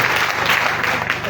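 Applause rises from a church congregation during a French-language worship service, a steady, dense wash of clapping hands that fills the space without pause, with voices mixed faintly into the crowd.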